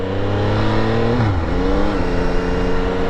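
Yamaha XSR900 GP motorcycle engine revving hard while riding toward 12,000 rpm, a loud continuous rising drone that drops briefly at a gear change and then climbs again, with steady wind and road noise throughout.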